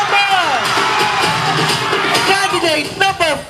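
A crowd at a gay beauty pageant shouts, whoops and cheers loudly throughout, with high-pitched voices rising and falling in overlapping bursts close by.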